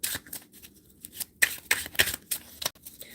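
Close, crisp riffling and slapping of a tarot card deck being shuffled, irregular bursts of papery flutters with brief pauses between.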